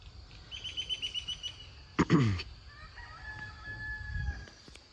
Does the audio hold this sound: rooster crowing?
yes